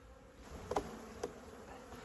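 Honeybees buzz close by as a beehive is shaken out at an apiary, a steady drone with a couple of brief louder thumps or passes, no talking.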